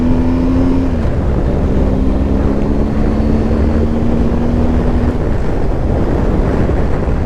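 A 2023 BMW R1250GS motorcycle rides in eco mode. A steady engine drone with a low tonal hum sits under heavy rushing wind noise throughout. The sound is loud and continuous, with no talk.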